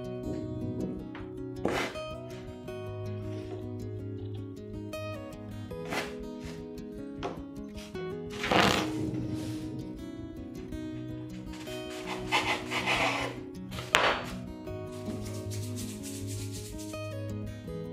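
Sicilian gnoccoli pasta dough shaped by hand on a wooden board, giving soft, close rubbing and scraping strokes in an irregular rhythm, with faint thumps between them.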